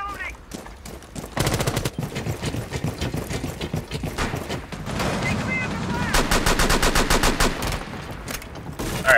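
Rapid bursts of gunfire from a gun fitted with a muzzle brake in Rainbow Six Siege, a House team deathmatch map; loud repeated shots in clusters with dense close-range firing toward the end and no speech.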